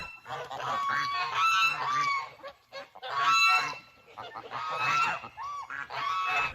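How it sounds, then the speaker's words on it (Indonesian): Geese honking loudly and repeatedly in close, overlapping bursts, a noisy flock calling over several seconds with no talk. "Ini hewan angsa teman-teman."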